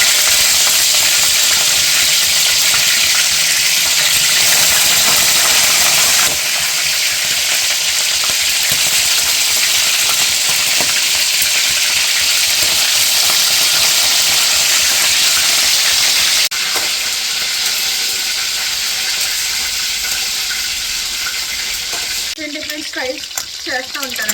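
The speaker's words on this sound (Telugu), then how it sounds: "నూనె వేడెక్కిపోయింది కదండి ఫస్ట్ అయితే చికెన్ బాయిల్ చేసిన చికెన్ ఫ్రై చేసేస్తాను" Boiled chicken leg pieces fry loudly in hot oil, giving a steady, dense sizzle that runs without a break and eases slightly near the end.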